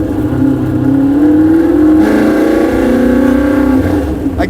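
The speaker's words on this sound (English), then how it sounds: "the car sounds better now than it did before" A Shelby GT350 engine revs hard with a manual gearbox, a loud sustained rising wail that climbs in pitch, dips, then climbs again, close and continuous with no talk.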